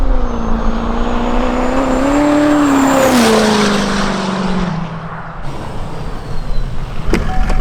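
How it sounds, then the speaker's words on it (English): Tuned turbo diesel truck engine revving hard at high RPM, its rising and falling pitch sweeping up then down with a loud turbo whistle, close and continuous before easing off near the end. "Easily one of the greatest sounding turbos of all time."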